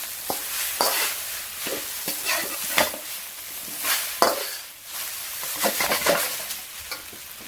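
King prawn chow mein noodles, seasoned with salt and MSG, are stir-fried in a hot wok, giving bursts of crackling sizzle with repeated tossing scrapes and clatter, near and fairly loud, with no speech.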